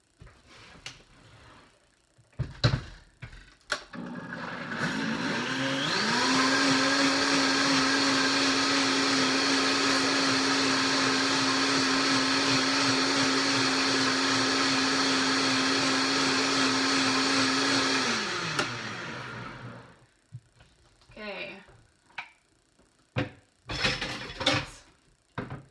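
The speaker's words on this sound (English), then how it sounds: "blend it on high for, I'm gonna say like 20 or 30 seconds" A countertop blender running on high, blending a creamy coffee drink: loud, steady whirring roar that spins up, holds for about 13 seconds and cuts off, with quieter kitchen clatter before and after.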